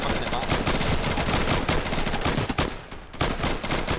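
Dense automatic and rapid gunfire from the co-op video game Insurgency rattles continuously and loudly up close, with a short lull near the end before the shooting resumes.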